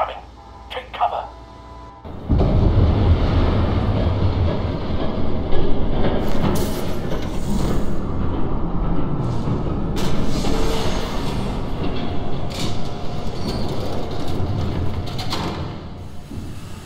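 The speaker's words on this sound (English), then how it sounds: "There's a train coming." A train thundering past in the Batman Telltale Series video game, a sudden loud roar with rattling clatter that holds steady for many seconds, with a voice speaking before it arrives and faint talk under it.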